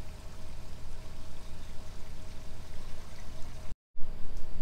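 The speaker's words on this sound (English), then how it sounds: "And we are now flushing out the front gray tank." Waste water rushes out of an RV's front gray tank through a hose at a dump station, a loud continuous gushing flow that cuts out for a split second before resuming.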